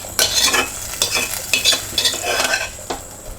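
Kadala curry, a roasted-spice chickpea curry, simmers and bubbles in a pan while a spoon scrapes and stirs in regular strokes, close and fairly loud over a soft sizzle.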